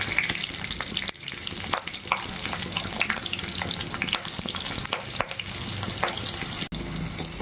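Bay leaf, four slit green chillies and whole garam masala spices frying in hot oil, a steady dense sizzle running throughout with occasional stirring clatter and small pops, close and loud with no talk.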